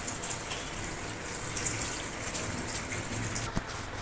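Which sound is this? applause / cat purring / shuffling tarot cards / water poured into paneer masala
water poured into paneer masala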